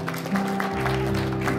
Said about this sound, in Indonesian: Hitungan ketiga, marilah kita sambut dengan tepuk tangan yang sangat meriah.